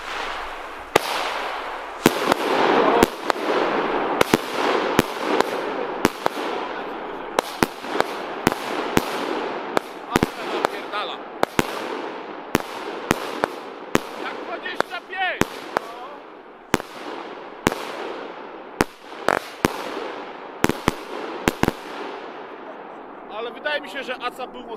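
Titanium Salute firecracker cubes going off outdoors in a long rapid string of sharp, loud bangs with crackling between them, over a continuous hiss, as people talk in the background.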